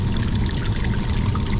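Hot water leaking from a commercial fan coil unit, spilling out everywhere: a steady, close, fairly loud rush of splashing water that runs without a break and has no talk over it.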